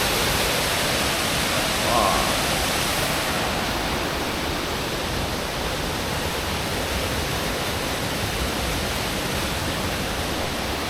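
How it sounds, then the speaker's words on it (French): A waterfall on Mont Qinxing fills the air with a dense, unbroken roar of rushing water, steady and close, with a brief faint voice early on. "Waouh, regardez-moi cette magnifique cascade."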